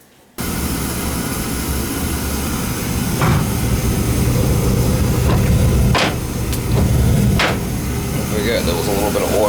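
An oil-fired pancake boiler in a basement runs with a steady, loud roaring burner hum after it kicks on abruptly, with a few sharp clanks and ticks over the drone and a voice speaking.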